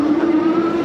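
A Ridstar Q20 Pro dual-motor e-bike with front and rear motors running, giving a loud, steady, close electric whine that holds one pitch through a short burst, with no voices.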